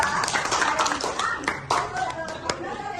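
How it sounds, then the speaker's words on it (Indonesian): A classroom of students claps for a classmate, a short burst of many hands patting at once, fairly soft, with children's voices mixed in. "tepuk tangan untuk Bella"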